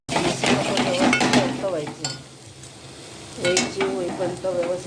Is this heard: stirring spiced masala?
yes